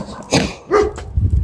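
Dogs bark twice in quick succession at a home during a food delivery run, a few sharp close barks followed by low rumbling noise.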